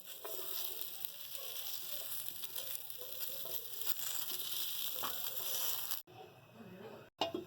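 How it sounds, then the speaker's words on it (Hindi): Potatoes frying in hot oil for a mixed vegetable pulao, a steady close sizzle and crackle that runs unbroken, then briefly cuts out near the end. "ये हमारे पास आलू हैं, ये हम फ्राई करेंगे"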